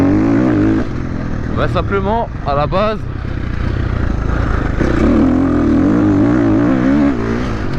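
Husqvarna dirt bike ridden on a motocross track, engine revving up and down in bursts with a steady drone between, while someone talks over it.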